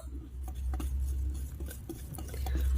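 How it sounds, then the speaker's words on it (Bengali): A hand whisk beats sponge cake batter with baking powder and baking soda in a bowl, making quick, light clinking taps and soft stirring scrapes in a steady rhythm over a low background hum. "এখন আমি হ্যান্ড উইচ দিয়ে খুব ভালো করে মিক্স করে নেব।"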